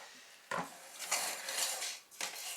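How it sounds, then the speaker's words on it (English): Camping cook kit pieces clink and clatter as they are handled, a few close metallic knocks of pot and cutlery against each other with no talking. "Use this cook kit."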